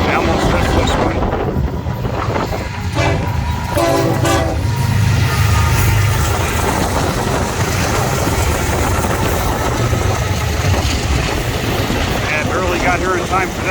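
A southbound Florida East Coast Railway freight train with many auto racks passes close by on the main line at a crossing with gates down, loud and continuous, its horn blaring early on amid wheel clatter and wind buffeting.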